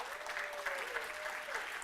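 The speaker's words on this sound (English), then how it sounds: "Let's give them a round of applause." Crowd applause at the Alaska Governor's Arts and Humanities Awards ceremony, a dense steady round of clapping at moderate level, with a faint tone running underneath.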